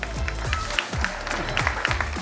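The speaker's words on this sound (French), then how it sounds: "Je pense qu'on peut les applaudir, hein, mes équipes." An audience applauds a team at an inauguration, the clapping steady and mixed with voices talking over it.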